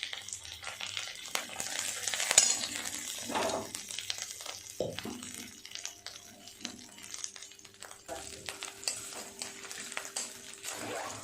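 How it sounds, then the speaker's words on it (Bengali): Turmeric and chili powder frying with ginger in a pan for a vegetarian dhokar dalna, stirred with a utensil that scrapes and clinks against the metal over a soft continuous sizzle. "মশলাটা ভাজা হয়ে গেছে।"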